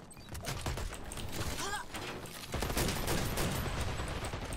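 Gunfire in the shooter Dirty Bomb, rapid bursts of shots with mechanical clatter, fairly quiet and continuous, as someone talks over the fight.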